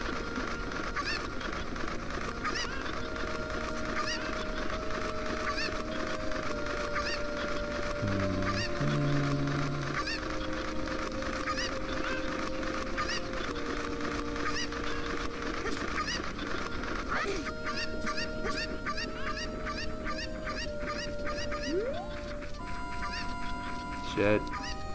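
Chickens cluck and squawk in The Legend of Zelda: Ocarina of Time, a few short bird calls in the first half over steady game music and background noise.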